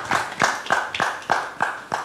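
Audience members on a Nigerian reality show clap for a contestant during a caretaker task. The sharp hand claps come close and in a regular rhythm, roughly three per second, with brief gaps between them.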